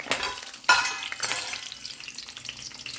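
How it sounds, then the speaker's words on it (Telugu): Urad dal sizzles in hot oil for upma, a close crackling fry with a sharp spattering burst early on and soft stirring over a steady hiss. "ఉప్మా చేస్తుంది ఈరోజు మినపప్పు ఫ్రై అయిన తర్వాత ఇవన్నీ యాడ్ చేయాలి"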